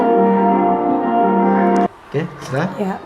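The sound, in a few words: loud bell sound from an advertisement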